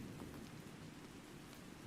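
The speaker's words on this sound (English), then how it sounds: "It's raining as well." Steady rain falls in the ARK video game, a continuous even hiss of drops on surfaces with no talk, holding level throughout.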